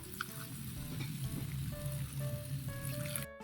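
Coconut milk poured into ginataang langka, young jackfruit simmering in coconut milk, a steady close bubbling sizzle with a gurgling liquid texture throughout and no voices.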